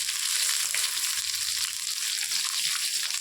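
Onions sizzle in hot oil with cinnamon, cloves and bay leaf for chicken biryani, a steady, bright crackling hiss that stays continuous and close throughout, with no talking.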